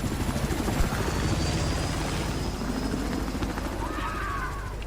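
Helicopter in a video game match, a steady rotor and engine drone holding at a constant level throughout, with a thin high whine running above and a brief higher chirp near the end.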